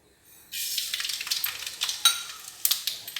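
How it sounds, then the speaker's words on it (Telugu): Mustard seeds dropped into well-heated cooking oil in a pan, a sudden bright crackling sizzle that starts after a brief pause and keeps spitting with sharp pops, close and fairly loud. "ఓకే, ఆయిల్ బాగా వేడైంది. ఇప్పుడు ఆవాలు వేసేద్దాం."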